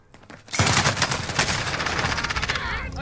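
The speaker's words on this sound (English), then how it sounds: "I'm taking fire." Call of Duty gulag gunfight: sudden dense bursts of rapid video game gunfire erupt and continue loudly, with overlapping shots.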